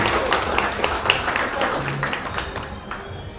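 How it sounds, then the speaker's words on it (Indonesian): Crowd applause at an Indonesian Independence Day ceremony in Malang, a dense wash of many hands clapping at steady loudness with voices faintly mixed in. "Tepuk tangan"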